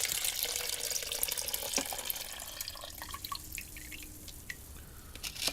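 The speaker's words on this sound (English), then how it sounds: "I'm now going to tip the water out." Water poured out of a film developing tank after a pre-soak splashes steadily into a sink, then thins to scattered drips and trickles near the end, close and fairly quiet, with no talking.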